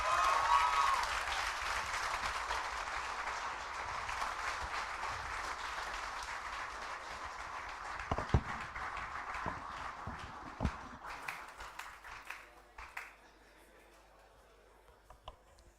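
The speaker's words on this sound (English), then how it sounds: "A round of applause for them." Conference hall audience applauds after a design talk, a broad steady clapping that thins into scattered individual claps before fading out.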